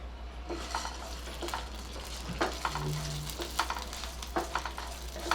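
Fenugreek seeds, chana dal and urad dal dry-roasting in a pan for bisi bele bath masala, stirred with a spatula, giving steady soft scraping and rattling with occasional clinks of utensil on metal, close by and without talk.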